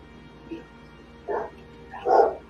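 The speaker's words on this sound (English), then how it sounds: "You say the dog was barking?" A dog gives a few short barks in a pub setting: a soft yip, then two louder barks close by, spaced about a second apart over low background murmur.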